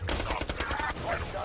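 Hyperion SMG fire in Borderlands 2: a rapid, loud burst of closely spaced shots rattling in an even rhythm for about a second, then tailing off.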